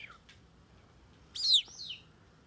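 A pet caique parrot gives two short, bright chirping chuckles at close range, the second louder, against a quiet room.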